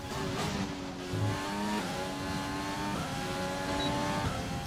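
A Formula 1 car in the F1 2020 racing game revs hard as it accelerates, its engine note climbing and dropping back through several quick gear shifts in a steady, continuous roar with no talking.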